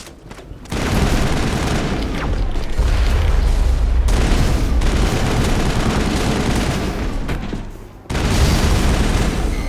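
Crossfire rages in the Mass Effect 1 video game, with loud bursts of rapid gunfire and booms in sustained volleys, broken by a few short lulls and no voices.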